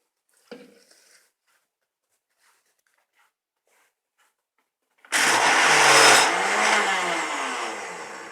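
An electric grinder blending mint and garlic into chutney starts abruptly after a quiet stretch of faint handling clicks, then runs loud and steady, its whirring pitch wavering as the contents churn.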